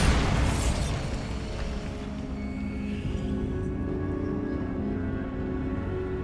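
A Bombarda blasting spell goes off in Hogwarts Legacy with a loud, booming explosion at the start, then a long rumbling decay that stays heavy and low for several seconds.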